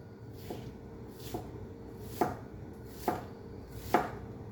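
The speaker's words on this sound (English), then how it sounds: "Now I'm going to flip it on its side, rotate it, and I'm going to start slicing all over again." Knife slicing through an onion on a cutting board, five evenly spaced crisp chops over a faint background hiss, close-up and moderately quiet with no voice.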